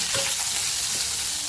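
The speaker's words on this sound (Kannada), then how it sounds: "ಈರುಳ್ಳಿ ಲೈಟಾಗಿ ಫ್ರೈ ಆಗ್ತಾ ಬರುವಾಗ" Roughly chopped onion and cashews fry in oil with a constant close sizzle, broken by a few soft stirring scrapes, and nobody speaks.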